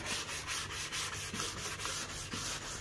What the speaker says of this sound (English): I've just got these spongy soft sanding blocks that you just buy off the shelf at Bunnings. This is a 120 grit.